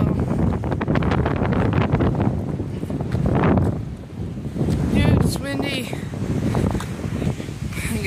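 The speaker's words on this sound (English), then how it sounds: "I don't think you can hear me from the wind" Wind gusts buffet a microphone outdoors, a loud, rumbling low roar that swells and eases throughout, with a person talking underneath.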